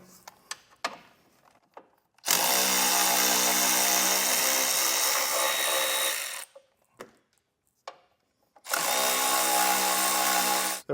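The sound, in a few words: power drill drilling holes in car frame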